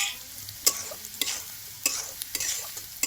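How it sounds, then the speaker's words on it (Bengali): Potatoes frying in a pan sizzle steadily while a spatula scrapes and stirs them in quick irregular strokes, close and moderately loud, with no talking. "লাল লাল আগে আলুটা ভেজে নেব।"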